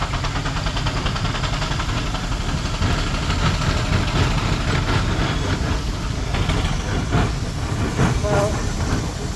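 A big steam showman's engine runs at a preservation rally with a continuous chuffing, clattering mechanical rumble, and faint voices and crowd noise sit beneath it.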